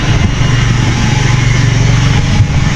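A motorcycle engine runs close by, a loud, steady low rumble with a constant mid-pitched hum and no clear changes in revs, with no talking.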